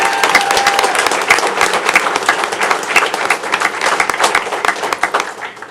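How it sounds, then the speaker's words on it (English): A room at a city commission meeting breaks into dense, sustained applause for district champion teams, many hands clapping steadily and loudly throughout with no gap. "big round of applause for all the hard work that they did all this year"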